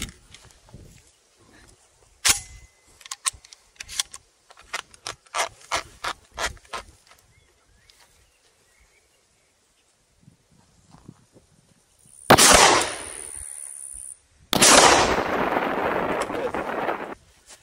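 Single shots from a Wizard Arms Iron A-16 firing slug rounds at an outdoor range, heard as sharp loud bursts with long hissing decay, several tapping mechanical clicks before them.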